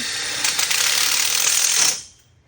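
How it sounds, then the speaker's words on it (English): A cordless drill drives a screw into an outdoor kitchen frame with a loud, close, continuous ratcheting whir that runs for about two seconds and then stops abruptly. "he'll just go ahead and put a screw in over there"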